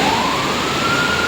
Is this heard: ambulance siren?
yes